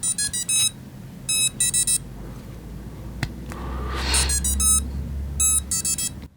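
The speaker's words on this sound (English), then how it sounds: "I have heard there's a different little beep on this." Emax Nanohawk indoor FPV whoop quadcopter giving bursts of bright electronic beeps after its battery is plugged in, several short chirping sequences with a brief whoosh in between, close and clear.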